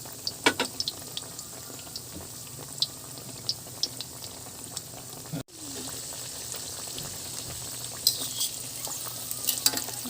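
Banana fritters (maruya, pinaypay) fry in oil with a soft continuous bubbling sizzle, scattered light clicks and taps, and one brief break partway through.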